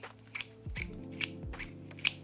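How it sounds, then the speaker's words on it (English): Scissors from a metal knife set snip open and shut in a quick series of light, crisp metallic clicks, close by and quiet, with faint handling noise between them. "we get 2 pairs of scissors? Can you hear that?"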